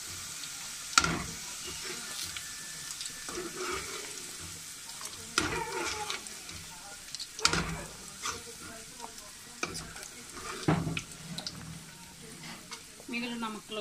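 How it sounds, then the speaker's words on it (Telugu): Bitter gourd pieces sizzle steadily as they fry in a pan, with occasional sharp clinks and scrapes of stirring breaking through the constant hiss. "మిగిలిన ముక్కలు కూడా వేయించుకోవాలి."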